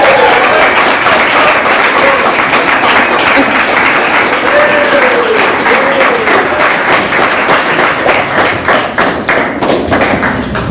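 Audience applause welcoming two speakers at a business and entrepreneurship event, a steady dense wash of clapping lasting throughout, loud and close, thinning slightly toward the end.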